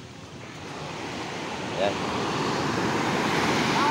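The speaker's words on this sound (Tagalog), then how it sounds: "Malakas ang dagat." Heavy sea surf from rough waves rolls in a constant loud wash, mixed with wind buffeting the microphone and a voice speaking briefly.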